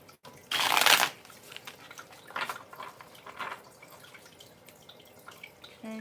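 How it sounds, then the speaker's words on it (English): A tarot card deck being shuffled: one loud riffling burst near the start, then two softer, shorter shuffles, close up in a quiet room with no talking. "Let me shuffle the deck real quick."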